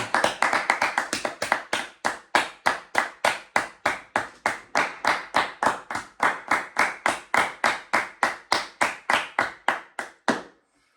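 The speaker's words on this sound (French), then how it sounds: "On peut applaudir très bien fort." Hands clap in a steady, even rhythm at close range, the claps starting fast and slightly bunched, then settling into a regular beat for about ten seconds as people applaud after a chips tasting.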